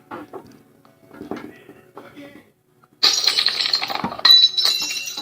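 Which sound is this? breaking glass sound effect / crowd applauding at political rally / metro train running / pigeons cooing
breaking glass sound effect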